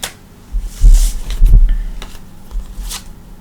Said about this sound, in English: we're going to shuffle through the cards